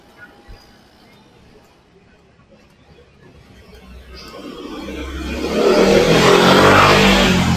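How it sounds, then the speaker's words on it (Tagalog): A motorcycle or tricycle approaches and passes along a quiet road, its engine note swelling from faint to loud and close over the last few seconds, with voices talking nearby. "panaka-naka lang yung mga daan ng mga motor, ng mga tricycle"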